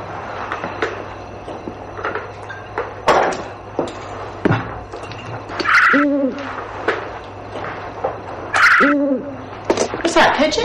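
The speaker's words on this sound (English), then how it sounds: "It's an owl." An owl hoots twice in a film scene, with a pair of clear, resonant calls a few seconds apart, mixed with scattered knocks, clatter and household bumps.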